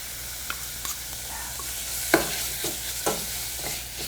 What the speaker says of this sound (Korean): 고기를 이렇게 살살 볶아주면 되거든요.